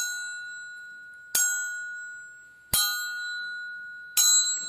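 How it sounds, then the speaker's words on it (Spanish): A bell rings out three times at steady intervals. Each bright metallic strike sustains a long, fading tone in a quiet setting, sounding like the town council's bells. "Eran las campanas del cabildo."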